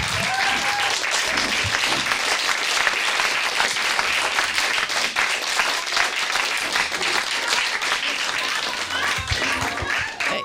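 An audience at a graduation and New Year celebration claps and applauds, a loud, dense, continuous wash of many hands sustained throughout without letting up.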